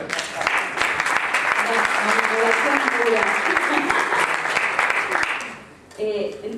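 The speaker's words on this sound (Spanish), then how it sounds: "un aplauso." Loud, sustained audience applause in a conference hall, with voices and cheers mixed in before it drops away briefly and picks up again at the end.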